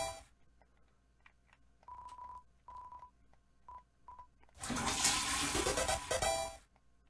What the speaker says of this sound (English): I did not think I would spend tonight flushing a toilet in a game over and over again